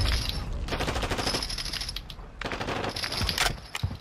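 Rapid automatic gunfire from a Taq-56 rifle in a Call of Duty ranked match, several close, sharp bursts with brief gaps between them.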